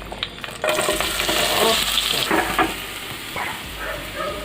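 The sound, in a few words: onions frying in a pan for liver curry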